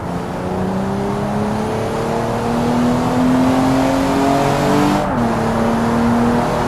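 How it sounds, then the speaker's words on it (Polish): In BeamNG.drive, a modded six-cylinder ETK car engine revs hard and loud, its pitch climbing steadily through the gears with a brief shift break near the end, no voices over it. "nie mogło również zabraknąć tych dźwięków w 6-cylindrowym silniku od"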